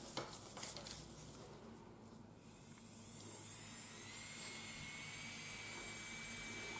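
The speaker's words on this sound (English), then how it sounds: "Next, I'm going to use my electric file." An electric nail file works on the nail plate during nail prep, giving a steady high-pitched motor whine that starts faint and grows a little louder and more even partway through, with no talking.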